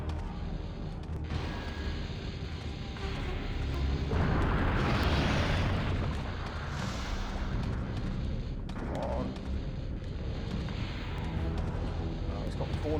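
Heavy booming grenade blasts from Resident Evil 3 gameplay on hard mode against Nemesis, with a large explosive swell midway and continuous rumbling game noise and debris around it, while a player talks over the action.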